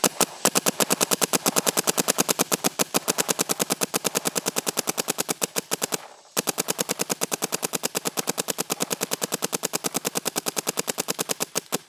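A D3fy D3s toy blaster fires in rapid continuous bursts, each shot a harsh sharp crack in a steady fast rhythm, loud and close, with one brief pause midway.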